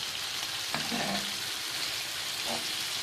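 Beef undercut steak fries in butter over a medium flame, a constant close sizzle with a couple of brief stirring scrapes and clinks and no talking.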